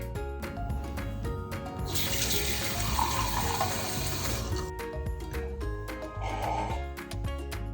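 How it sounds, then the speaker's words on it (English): Water from a kitchen sink tap runs into a glass holding ice, a steady stream that rises in pitch as the glass fills, with a second short pour near the end. "I'm going to get some liquid water from my sink and put it in my glass with the ice"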